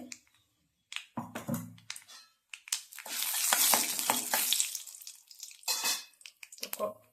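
Urad dal is sautéed in a pan until golden, heard as intermittent close sizzling and scraping stirs, bursts separated by brief quiet gaps, fairly soft overall.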